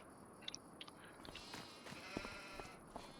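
Sheep in a farming video game bleat several times in short separate calls, soft and somewhat distant, over a quiet ambient farm background.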